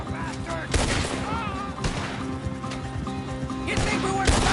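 Gunfire in the video game Red Dead Redemption 2, a fusillade of shots and cracks in irregular bursts over a dense, busy game soundtrack, with voices heard at times.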